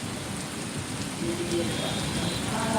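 Heavy rain pours down on a flooded Hyderabad street, a steady dense hiss of water on surfaces with traffic moving through it, loud and continuous throughout.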